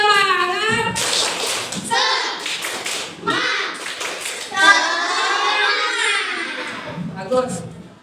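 Schoolchildren in a classroom perform a rhythmic clapping chant, with bursts of sharp hand claps in a set pattern interleaved with sung and shouted children's voices and a teacher's voice.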